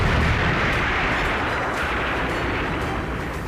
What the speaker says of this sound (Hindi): 16 जुलाई की शाम 5:29 और 45 सेकंड पर अमेरिकी रेगिस्तान में एक जोरदार धमाका हुआ।